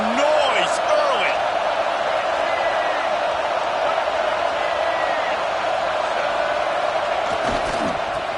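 Stadium crowd roars steadily throughout a college football game in NCAA 26, a loud continuous wash of cheering with a few whoops and bursts rising over it.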